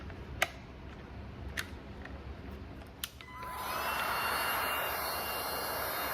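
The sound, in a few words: heat being applied to wet crushed corner, likely heat gun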